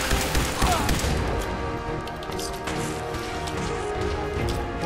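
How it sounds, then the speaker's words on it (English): Gunfire aimed at the player in Fallout 4, a dense, loud stretch of rapid shots and crashing impacts that carries on throughout without pause. "What's shooting at me now?"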